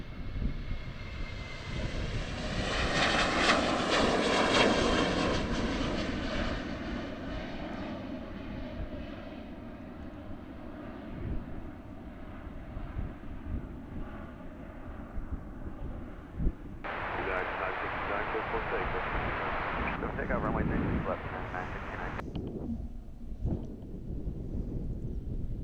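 Airliner departing Amsterdam airport, a jet roar that swells loud in the first seconds and then gradually fades into the distance, with wind buffeting the microphone and a voice talking briefly near the end.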